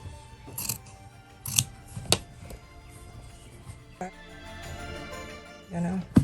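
Scissors snip through quilting fabric for a patchwork gift bag in several sharp, close cuts with pauses between, followed by a softer stretch of rustling handling.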